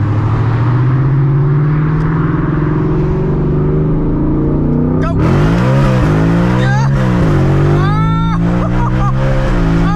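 A 900HP Whipple-supercharged 2024 Ford Mustang GT accelerates hard and loud from inside the cabin, its engine note climbing steadily before sharp gear changes drop and restart the rising pitch, with a brief excited voice over it.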